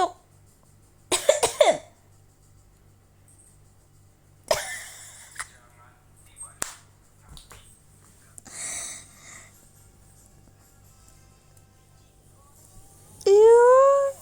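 A young child coughs when asked, several short separate coughs and throat clearings scattered between quiet gaps, close to the microphone, with adult voices talking in Indonesian and a brief child vocalization near the end.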